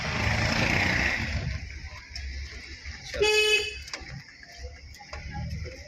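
A short car horn honk during driving training cuts through steady road and engine noise, heard up close with no voices.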